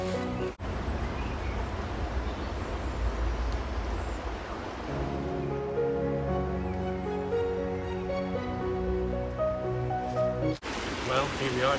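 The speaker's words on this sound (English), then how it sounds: "Above the sound of running water in the Gelliideg gorge." Water rushes continuously through a rocky gorge in a Welsh rainforest, a steady close roar that fills the clip, with a voice speaking over it partway through.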